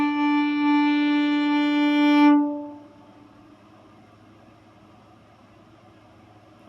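Violin bowed with even pressure on the strings, one steady sustained note held for about two seconds before it fades into quiet room hiss.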